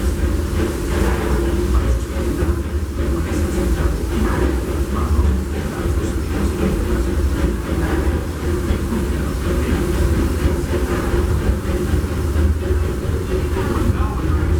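The Disneyland Railroad, with passengers riding behind the Fred Gurley No. 3 locomotive, rolls along in a continuous low rumble with faint rhythmic clatter, steady and enveloping from inside the moving car.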